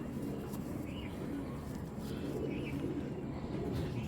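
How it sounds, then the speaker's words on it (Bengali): A large Narayanganj Gangchil pigeon gives a couple of soft, brief coos beneath a voice and steady background noise. "এটা অরিজিনাল নারায়ণগঞ্জের গাংচিল কবুতর"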